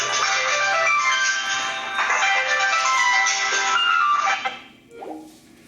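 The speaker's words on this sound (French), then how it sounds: "j'ai le téléphone là qui sonne" Telephone ringtone going off during a religious lecture, a bright melodic electronic tune playing steadily and fairly loud for several seconds before cutting off, followed by a brief faint sound.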